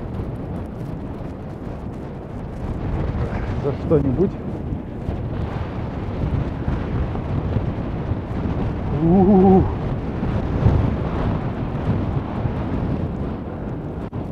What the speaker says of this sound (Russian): Фу, тут ветер отбивается от поверхности. Море гудит.